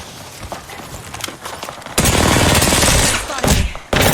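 Gunfire from the video game Apex Legends: a loud, sustained burst of rapid shots that follows a stretch of scattered quieter thuds and clicks, then cuts off briefly before resuming.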